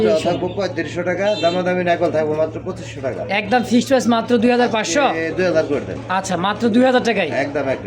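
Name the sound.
pigeon cooing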